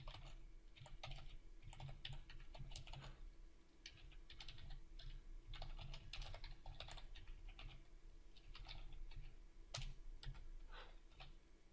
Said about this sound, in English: notice when I'm typing these things